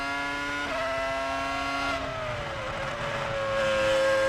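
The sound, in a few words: Ferrari V10 Formula One engine, Barrichello's car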